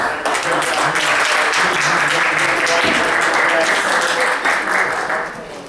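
Audience applauding at the close of a communication conference, a dense, loud wash of clapping that holds steady before tapering off at the end.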